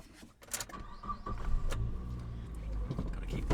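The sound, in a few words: car engine running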